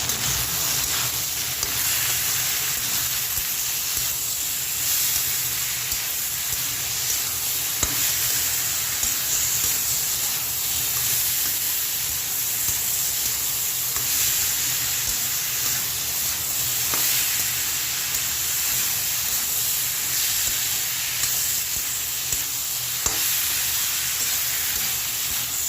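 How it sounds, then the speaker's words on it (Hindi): Potato and eggplant curry sizzles and fries in a hot pan while being tempered, a steady loud crackling hiss with occasional stirring clicks throughout. "यहाँ पे मैं आलू बैगन की सब्ज़ी छौंक रही हूँ।"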